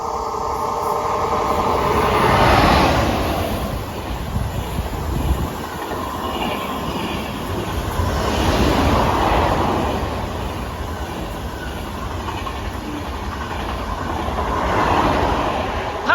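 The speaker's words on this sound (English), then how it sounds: "Passing through there was TGV 276 and TGV 867 on a TGV Inoui service" TGV Inoui high-speed trains run through Aubagne station, a broad, loud rushing roar that swells and fades in several waves, with rail rumble and faint wheel squeal, no speech.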